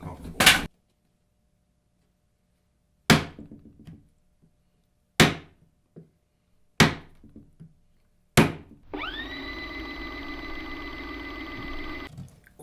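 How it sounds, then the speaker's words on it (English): A light Gerber Ripstop II knife swung hard in chopping strikes, five sharp, loud impacts spaced about two seconds apart with short decays, followed by a steady sustained tonal hum. "Being that it's such a light knife, I really had to swing hard"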